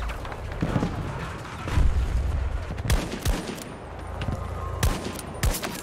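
Gunfire in the video game Battlefield 2042: rapid bursts and single sharp shots crack repeatedly over a low rumbling background, some near and loud, others more distant.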